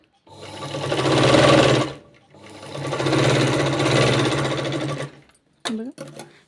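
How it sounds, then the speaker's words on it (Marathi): A sewing machine stitches a long blouse sleeve with a chandrakor Paithani-style design, running in two sustained close bursts of rapid needle clatter with a short pause between them. A brief spoken phrase follows at the end. "यासाठी मी असं डायरेक्ट इथं मशीनवर शिवून दाखवत आहे"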